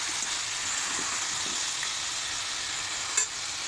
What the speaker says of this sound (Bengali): ভালো করে কষিয়ে নেব, মাংসটা ভালো মতন কষিয়ে নেব।